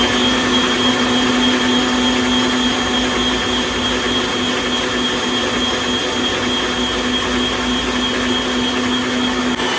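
An electric beater whips cream at home with a steady, loud motor whine and a constant pitched hum holding for the full stretch, with no talking over it.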